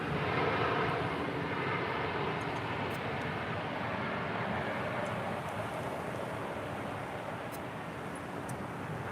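A 19-year-old Boeing 747-400 airliner at LAX gives off a steady, broad, distant engine roar that holds at an even level throughout, with no voices.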